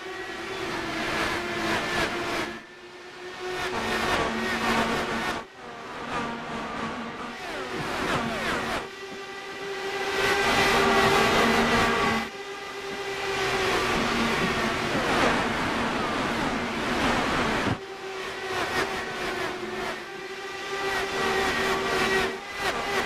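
An IndyCar field accelerates toward the green flag at Homestead Miami Speedway in a sim racing game, multiple engines droning and rising in overlapping waves, loud and sustained.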